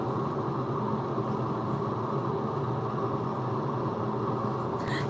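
A train rolls past steadily throughout, a continuous loud rumble and rattle of rail cars, with no one talking.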